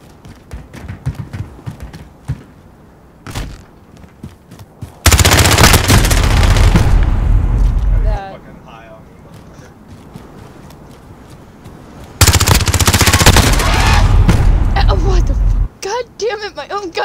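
Gunfire in a shooting video game: two long, very loud bursts of rapid automatic fire separated by quieter stretches of scattered single shots, with people talking between bursts.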